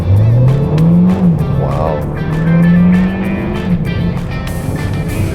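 A Mercedes-Benz A200 sedan accelerates hard, its engine note rising steadily and loud up close, with tire noise; a person briefly exclaims over it.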